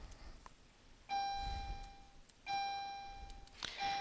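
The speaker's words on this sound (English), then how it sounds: "I know you're hearing those bells." A set of bells chimes in three clear ringing strikes, each followed by a sustained decaying tone, at a modest distance in a quiet room.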